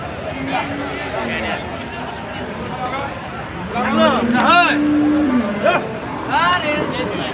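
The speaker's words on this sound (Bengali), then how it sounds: "বলদ গরু দেখাচ্ছি দর্শক।" Bullock cattle low at a busy rural livestock market in Joypurhat, Bangladesh, with a few drawn-out moos rising over crowd chatter and someone talking nearby.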